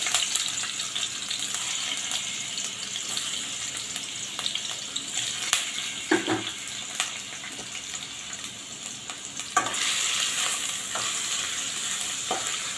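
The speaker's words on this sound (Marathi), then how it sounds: "यामध्येच आता पनीरसुद्धा तळून घ्यायचं आहे" Paneer shallow-fries in oil in a pan with browned onions, a constant bright sizzling hiss with intermittent stirring scrapes and clicks, swelling louder toward the end, with no voices.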